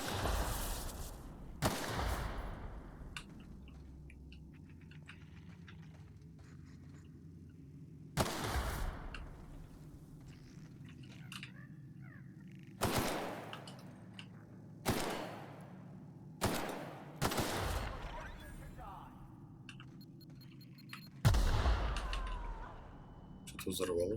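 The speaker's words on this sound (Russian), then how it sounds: "Что-то взорвалось. Еще что-то взорвалось сейчас." Heavy explosions going off in the sci-fi role-playing game The Outer Worlds, in a trap-filled smugglers' tunnel. About eight sharp, loud blasts come at irregular intervals, each trailing into a rumbling decay over a quiet background.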